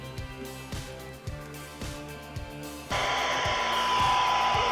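Rhythmic tones from a Yaesu FT5D handheld radio give way abruptly to a steady wash of open-squelch static hiss that continues loud to the end.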